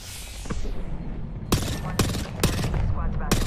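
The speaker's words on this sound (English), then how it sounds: "Opening fire." Gunfire in the battle-royale shooter Apex Legends: four or five sharp, loud shots ring out at uneven intervals over a constant bed of game ambience, and faint voices can be heard in the background.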